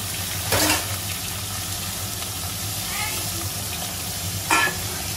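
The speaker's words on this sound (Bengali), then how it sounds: "হ্যাঁ গরম বসিয়ে দিয়েছি, এবারে একটা একটা করে মাছ ছাড়বো" Hilsa fish pieces frying in hot oil in a home kitchen, a steady soft sizzle running throughout with two brief louder bursts of hiss and clatter as pieces go in, moderately close.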